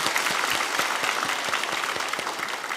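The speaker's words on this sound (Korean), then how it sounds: "우리 하나님께 영광의 박수 올려드리겠습니다." A church congregation claps in applause during a special autumn dawn revival service, a dense, steady patter of many hands sustained loudly throughout, with no talk over it.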